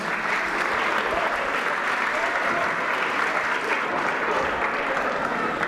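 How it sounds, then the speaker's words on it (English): A boxing event crowd gives a sustained round of applause, dense clapping from many hands that holds at a loud, even level throughout with a faint murmur of voices underneath. "let's give these guys a big, big, big round of applause, a big round of applause"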